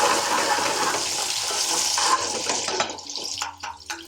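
Chopped onion dropped into hot oil in a pan for an Indian restaurant-style chilli chicken masala, a loud, steady hiss of sizzling that gradually thins and crackles as it settles.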